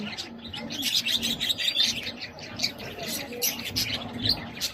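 Birds at a bee farm in Bohol, with repeated chirps and tweets and a few coo-like calls, moderately close, mixed with faint outdoor noise and no clear speech.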